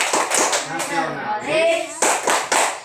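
A classroom group performs the rhythmic PPK clap, with sharp, loud, unison claps in quick patterned bursts mixed with voices chanting along between the claps.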